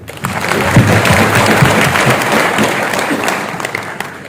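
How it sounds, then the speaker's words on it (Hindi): Crowd clapping at a Bahujan Samaj Party political rally in Jaipur, a dense, loud wash of applause from many people, sustained evenly throughout. "ताली बजा सकते हैं।"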